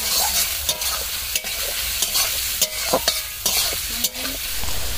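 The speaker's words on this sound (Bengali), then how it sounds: "এই পেঁয়াজটা ভাজছি" Onions and four slit green chillies frying in oil with whole garam masala for chicken curry, a steady close sizzle broken by repeated scraping stirs of a spoon against the pan.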